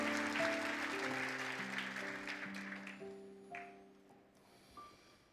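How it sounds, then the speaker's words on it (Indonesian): An audience at a church synod service claps in a fading wash of applause, while sustained organ or keyboard tones linger beneath and the clapping tapers off toward the end. "Kita beri tepuk tangan yang lebih meriah."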